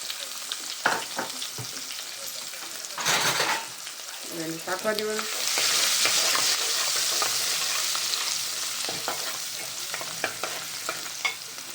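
Garlic and ginger sizzle in ghee in a pan for a ridge gourd and sponge gourd vegetable curry, a steady frying hiss swelling midway, with scrapes and clinks of stirring and brief speech.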